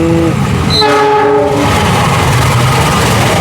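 A train passes through the platform at Bekasi station, loud and close, with a horn blast sounding as a chord of steady stacked tones for about a second, then rumbling carriage noise continuing to the end.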